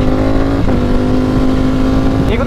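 A Ducati Streetfighter V4 motorcycle is ridden at a steady, loud, close engine drone with brief pitch dips during gear changes, the whine continuous throughout under wind noise.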